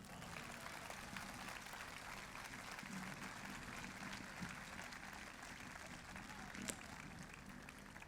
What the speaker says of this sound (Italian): Vai con l'applauso.